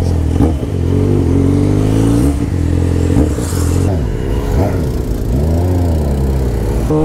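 A Yamaha XJ6 motorcycle engine revs loudly and close by, its pitch climbing and falling through several throttle blips over a steady, rumbling idle, with no voices heard.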